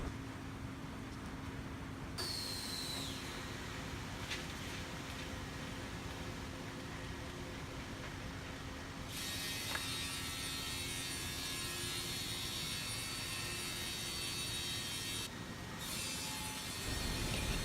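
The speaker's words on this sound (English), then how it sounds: "we will use this CNC machine to cut in the four edges of MgO board according to customers' requirement size" Steady, loud industrial drone of a CNC machine cutting the four edges of MgO boards on a production line, continuous grinding whine and hiss throughout, with higher-pitched cutting tones shifting partway through and no talk.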